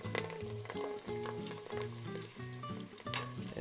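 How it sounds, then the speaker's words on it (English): Rice chip frying in hot oil, a steady close sizzle with crackling pops and occasional clinks from stirring or pressing, no voices. "Then you'll start to see it sizzle."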